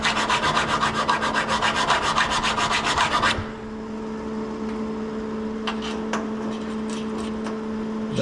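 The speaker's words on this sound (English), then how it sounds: "And this file doesn't take off much." A hand file rasps along the edge of a 1967 Chevelle hood in quick, even strokes, close and loud for a few seconds, then stops, leaving a quiet hum with a few faint taps.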